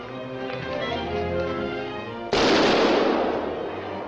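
A rifle fires one loud, sharp gunshot at a rock outdoors, a sudden blast about midway that rings out and decays slowly over a steady background.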